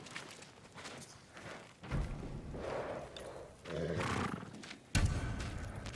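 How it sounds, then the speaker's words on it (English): Samurai horses in the video game Ghost of Tsushima snort and whinny in a stable setting, with low rumbling breaths and a few sharp, louder vocal bursts. "They're samurai horses."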